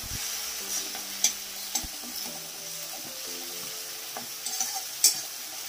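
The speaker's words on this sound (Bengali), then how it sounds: "আমি তো এটা হালকা করে নাড়াচাড়া করে নিচ্ছি।" A spoon stirs curry around a frying pan, gentle scraping and low sizzling with a few sharp clinks of utensil on metal, fairly quiet and without talk.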